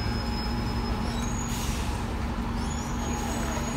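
Bus idling on a street in Stratford-upon-Avon, giving a steady low engine rumble with thin high-pitched squeaks and squeals coming and going over it, fairly close and with no talk.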